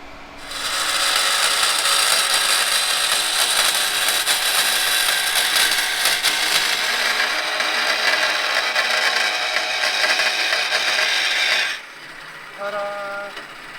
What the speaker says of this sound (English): The magic bandsaw.